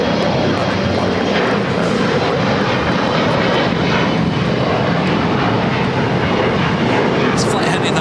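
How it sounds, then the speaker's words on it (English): United Express Embraer E175 LR jet bound for Monterey at Los Angeles airport, its engines a loud continuous roar that stays close and steady, with people talking over it. "This flight heading to Monterey, California, United Express, flight 5247. It's an E175 LR."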